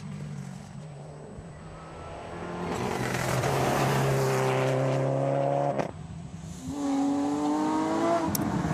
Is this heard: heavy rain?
no